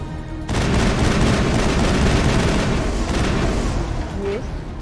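Dense gunfire rattles without a break in the video game Mass Effect, loud, rapid and overlapping bursts with booming impacts that fill the scene for several seconds before thinning slightly.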